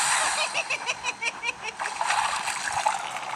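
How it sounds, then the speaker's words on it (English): Muddy rainwater splashing as a toy train ploughs through a puddle, a busy spattering, sloshing wash of water that stays fairly loud and continuous for a few seconds with no talk over it. "Muddy rainwater had splooshed all over Emily, and all over Emily's flower cars."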